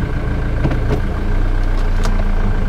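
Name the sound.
Jaguar X-Type 2.2 litre turbo diesel engine idling as car pulled forward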